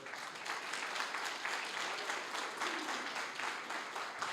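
A church congregation applauding together, a dense, steady wash of clapping that holds evenly throughout without speech over it.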